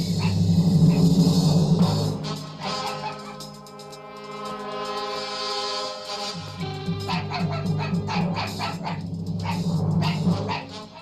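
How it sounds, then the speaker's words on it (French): A lone dog barks and yips insistently, near and loud, with a drawn-out whining tone in the middle of the sequence. "Un chien tout seul, rassure-toi. Pourquoi est-ce qu'il aboie?"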